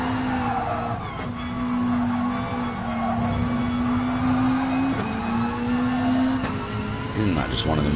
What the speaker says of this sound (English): God, Subaru ragging it around Suzuka.